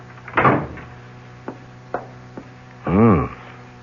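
An office door closes in a 1974 CBS radio drama sound effect, with a solid thump followed by a few sharp latch-like clicks and a short creaking sound.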